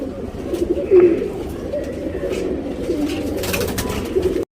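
Tournament pigeons in Bangalore coo in low, rolling, repeated murmurs, close and steady, with faint background noise.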